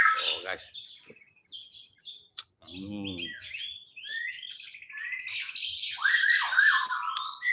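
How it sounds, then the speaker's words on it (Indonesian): Many birds chirp and tweet in quick overlapping calls under a starfruit tree at a home meal, fairly close and lively, with a brief human voice partway through. "Banyak suara burung."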